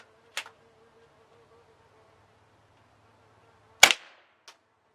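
Two sharp, dry cracks from a Webley Nemesis .177 CO2 air pistol fired over a chronograph, a few seconds apart, with near silence and a faint hum between them.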